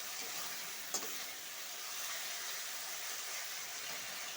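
Ghugni curry sautéing in a pan, a steady soft sizzle with a single brief scrape or clack near the start, continuous and fairly quiet with no voices.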